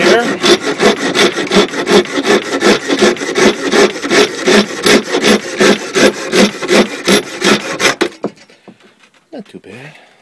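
A sharpened Corona bucksaw cuts through wood in quick, loud, rhythmic rasping strokes, about three per second, for roughly eight seconds. Then it stops, leaving faint rustling and a quiet voice.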